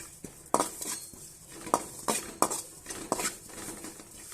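Cumin seeds roasting in a pan for homemade idli podi, stirred with a metal spoon that scrapes and clinks against the pan in irregular sharp knocks over a faint sizzle, with no voices.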